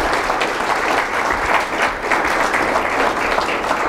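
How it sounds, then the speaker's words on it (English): Sustained audience applause after a discussion at the Nixon Global Forum, a dense steady wash of clapping from a sizeable crowd, loud and unbroken throughout. "Let's give him a round of applause first."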